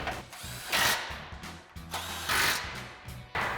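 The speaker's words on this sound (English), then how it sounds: "Tighten those back down again with our 18 mil socket on our impact." Impact wrench driving 18 mm bolts with a socket while reinstalling a Rough Country dual exit exhaust on a 2021-2023 Ford Bronco: several loud, close hammering bursts with short pauses between them, and no talking.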